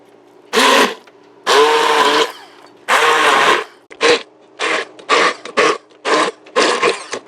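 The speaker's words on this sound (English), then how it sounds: "This one right here is just the Braun immersion blender." A Braun immersion stick blender purees cauliflower in repeated bursts, long whirring pulses at first then shorter quick ones, loud and close, with no speech.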